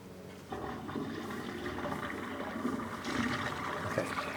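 Water from a flushed toilet rushes through a sewer pipe, picked up by an inspection camera down in the line, a continuous gurgling flow that builds and surges slightly louder toward the end, fairly faint and without voices.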